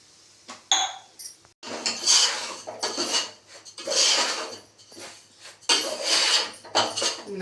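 Semolina roasts in ghee in a pan while being stirred, with loud bursts of spoon scraping and metal clatter against the pan, separated by short quieter gaps.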